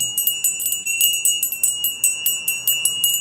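A small bell is rung repeatedly during a live energy check-in, bright ringing strikes in a quick steady rhythm, close and clear with no talking.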